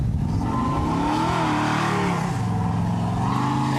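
A front-wheel-drive Acura RSX accelerates hard on an autocross course, its engine revving loud and close with a steady, rising tone that dips briefly as it shifts or eases off mid-run.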